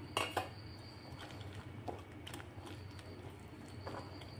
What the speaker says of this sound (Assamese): ইয়াতে মই ঠাণ্ডা পানী দি দিলোঁ আৰু হেণ্ড উইচ দি এনেদৰে অলপ লৰাই দি আছোঁ